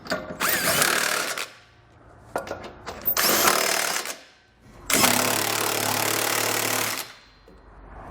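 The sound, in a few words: 19mm socket tightening trailer hitch hardware on 2012 Nissan Rogue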